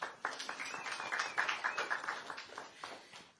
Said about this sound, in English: So round of applause for these gentlemen.